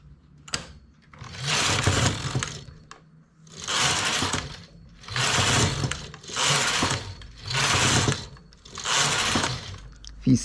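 A domestic knitting machine carriage is pushed back and forth across the needle bed, each pass a loud, rasping mechanical sweep of about a second and a half, repeated six times in a steady rhythm with brief pauses between rows.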